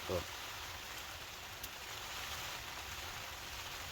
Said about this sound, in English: I know I keep saying about that sound of rain